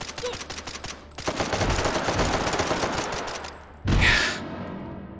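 Bursts of gunfire from enemy soldiers in the VR shooter Hot Dogs, Horseshoes & Hand Grenades, in Take and Hold mode against special forces: sustained rapid shots that briefly pause, then a sharp loud burst near the end.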